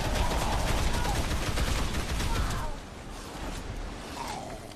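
AK rifle gunfire in the video game Dead Island Riptide, a dense, continuous stream of rapid shots that is loud for the first few seconds, then continues more quietly.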